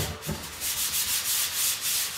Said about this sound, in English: it allows you to do quite a bit of sanding